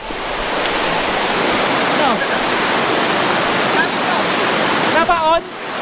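A fast, swollen river runs high after heavy rain from a low-pressure area, a loud unbroken rushing roar close by with voices talking briefly over it.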